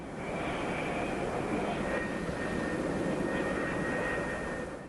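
Military jet aircraft on an aircraft carrier deck, producing a steady, loud engine roar with a sustained high whine that holds evenly for several seconds without talk.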